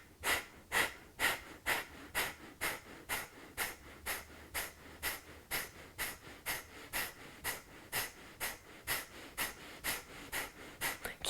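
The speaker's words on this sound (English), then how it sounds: "force it out through the nose on the exhales" Sharp, forceful nasal exhales during a breathing exercise, a steady run of about twenty quick puffs evenly spaced roughly every half second, close and fairly quiet, with no talking.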